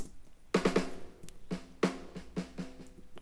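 A snare drum track with EQ applied, played alone, crisp hits in an uneven groove with a few quick flams, ringing body tone under bright rattle, close and moderately loud.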